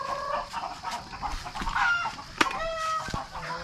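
Native jungle fowl (labuyo) chickens at a farm coop give repeated clucks and short calls, with a rooster's sharp cry breaking through partway, nearby and outdoors with no talk.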